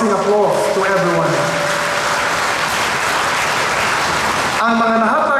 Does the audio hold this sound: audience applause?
yes